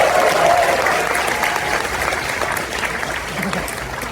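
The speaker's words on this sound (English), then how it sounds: "So thank you very much, and just a huge round of applause." Convention audience at an opening ceremony applauding loudly, a dense clapping roar that starts strong and slowly tapers while staying sustained.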